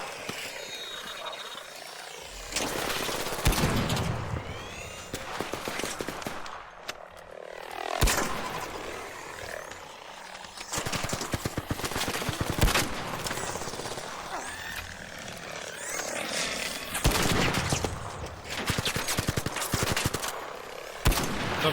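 Rapid bursts of video game gunfire from ARC Raiders crackle repeatedly over a steady rotor-like drone, loud and close, with short pauses between volleys.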